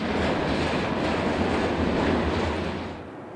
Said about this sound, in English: The evening tranquility is about to be interrupted by the blissful music of hard-working EMDs racing east.